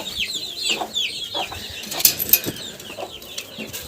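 Soft, repeated clucking of a broody hen nearby, with a few chirpy bird calls and faint rustling around it, in a farmyard.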